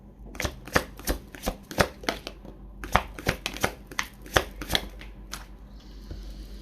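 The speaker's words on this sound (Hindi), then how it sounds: "और एक दो कार्ड ले लेते हैं।" Tarot cards shuffled and drawn: a run of crisp, rapid riffling snaps and flicks in uneven bursts, close and alone, easing off into quieter rustling at the end.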